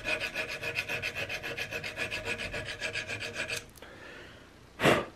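A hand file rasps across a wooden nose cap on an Investarms Gemmer Hawken rifle build in quick, even back-and-forth strokes at close range, stopping abruptly, with a short scrape after a pause.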